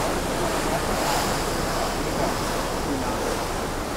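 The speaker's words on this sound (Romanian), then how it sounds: "așa niște valuri îs." Sea waves wash steadily on the open water during a ferry crossing from Poland to Sweden, a continuous rushing surf with wind noise and no pauses.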